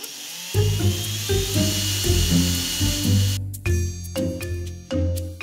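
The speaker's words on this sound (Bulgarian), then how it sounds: "Започваме да пробиваме надолу" Power drill boring a pilot hole down through stacked wooden boards, heard close and loud as a whirring motor in repeated bursts that rise and stop, with no talking.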